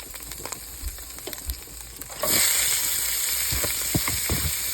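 Celery, onion and carrot sautéing in a pan for braised beef rib, starting with sparse stirring clicks and scrapes, then a loud steady sizzle that jumps up halfway and continues close with occasional utensil knocks.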